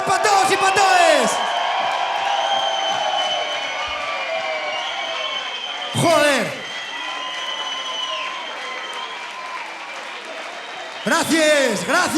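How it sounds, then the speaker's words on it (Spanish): A concert crowd at a farewell show claps and cheers in loud bursts at the start, middle and end, with sustained musical tones ringing between them. "Este aplauso grande para todos y para todas."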